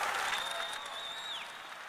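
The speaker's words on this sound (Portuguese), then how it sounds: "aplauda o Senhor" A church congregation at a Bible study applauds in worship, a soft, even wash of many hands clapping at a distance, with a faint high tone running through it.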